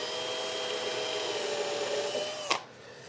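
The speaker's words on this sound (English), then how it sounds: "A smaller bit as a pilot hole will help direct the screw and make sure that the knob spindle doesn't split" Power drill boring a small pilot hole into a wooden drawer knob spindle ahead of a screw, a steady whining drone that runs continuously, then cuts off with a short sharp knock near the end.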